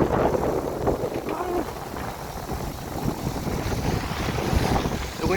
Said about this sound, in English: just as we come in the harbor, we got lots of wind